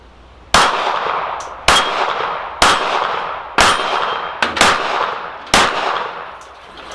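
Ruger LCP II .380 pistol firing six sharp shots at steel plates, each crack ringing with a metallic clang, spaced roughly a second apart, loud and close with no talk.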